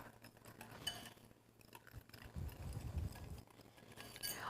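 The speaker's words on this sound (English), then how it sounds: "And I'll just give this a little stir." A spoon stirs milk into custard powder and hot chocolate mix for Nanaimo bars, a soft scraping and clinking against the bowl that grows louder partway through, with no talking.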